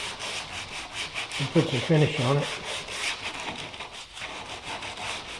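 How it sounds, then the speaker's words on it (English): Hand sanding on a saw-blade ulu knife makes soft, rhythmic rubbing strokes, a short burst of quick scrapes in the middle, under faint background noise, with brief talk. "what I'm doing is a little hand sanding"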